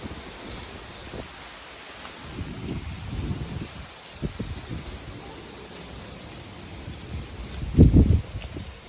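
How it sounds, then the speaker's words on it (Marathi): Gusty wind under gathering dark clouds rustles through leaves, with rumbling buffets of air striking nearby and swelling louder toward the end. "भयानक वारा सुटला आहे"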